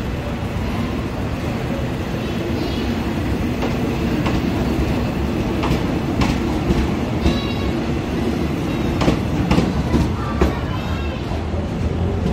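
A train rolls steadily through Makkasan railway station in Bangkok in the early morning, a continuous loud rumble with clickety-clack wheel beats and faint squeals, under some background voices.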